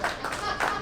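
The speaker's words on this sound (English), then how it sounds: "Give Matt a round of applause for being sweet." An audience claps for Matt during a live podcast taping, a brief burst of clapping with voices over it.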